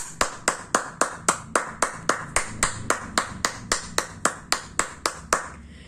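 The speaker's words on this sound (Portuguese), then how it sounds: "bate palmas." A single person claps in a steady, even rhythm, about fifteen crisp claps close to the microphone, after a children's story reading session.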